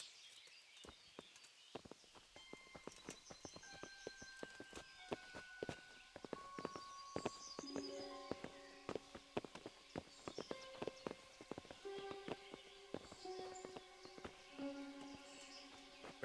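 Horse hooves clip-clop in a steady walking rhythm in the medieval game Kingdom Come Deliverance, crisp, fairly close, irregular strikes mixed with jingling tack and faint chiming tones, without speech.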